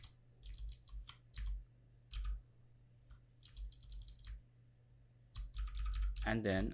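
Computer keyboard keys pressed in quick bursts of close, crisp clicks with short pauses between, ending in a dense run of rapid keystrokes during shortcut work in Excel.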